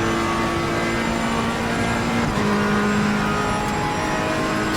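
A Ferrari GT3 race car in Assetto Corsa Competizione at Spa passes with a steady, loud engine drone that holds throughout, a sustained tone gliding slightly as it stays close.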